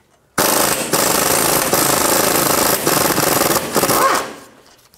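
A power tool with a 13 mm socket removes nuts on a 2007-16 Chevy Traverse rear catalytic converter, a loud rattling impact burst that runs steadily with brief gaps before stopping.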